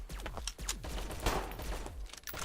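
Dense gunfire from a firefight in the video game Freeman: Star Edge, bursts of overlapping shots and rattling volleys sounding loud and continuous throughout, with no talking.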